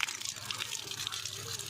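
Water splashes and trickles steadily onto potted plants, a continuous soft pouring sound heard fairly faintly and close.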